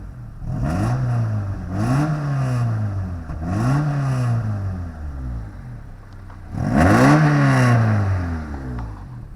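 A Honda HR-V engine starts and revs repeatedly, rising and falling in several strong surges, with a rough, slightly rattly exhaust note from a leaking exhaust joint or gasket, and a louder final rev.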